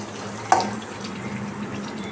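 The remaining water is poured into a beetroot poriyal curry in the pan, a brief splash followed by a steady soft wash of liquid.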